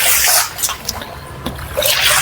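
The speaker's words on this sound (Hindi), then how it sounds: "पहले पानी निकाल देता हूँ" Water pushed across a sloped floor and drained away, with loud sloshing, splashing and trickling rushes that come in uneven bursts and short pauses, close by and without speech.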